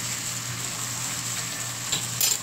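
Cod pan-frying in butter gives a steady, close sizzle that holds evenly throughout, with a short clatter near the end and no voices.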